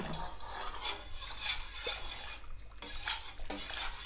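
Homemade laundry detergent with black soap is stirred in a container, producing close scraping and light clinking of a utensil against the sides in a steady, uneven rhythm.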